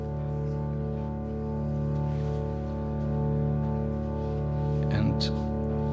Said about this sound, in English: This is the main drone of the piece.